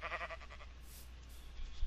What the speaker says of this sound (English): All these sheep.